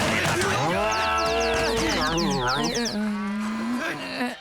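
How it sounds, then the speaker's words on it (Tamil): A cow moos close by in a long, drawn-out bellow with shifting pitch, loud and dominant, accompanied by a higher warbling animal-like sound partway through, with no speech over it. "மாடு வந்துட்டு இருக்கு."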